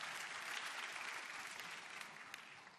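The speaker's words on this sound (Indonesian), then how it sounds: "Beri tepuk tangan yang meriah buat Tuhan." Church congregation applauding during a sermon at Bethany Citraland, a steady, fairly faint wash of many hands clapping together, continuous and even with no voices over it.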